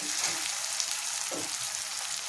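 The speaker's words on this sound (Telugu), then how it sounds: "అల్లం కొంచెం పచ్చివాసన పోయేదాకా వేపించుకోవాలి." Ginger frying in a pan of oil for a prawn and drumstick curry, giving a steady, fairly quiet sizzle with a faint stir or scrape midway.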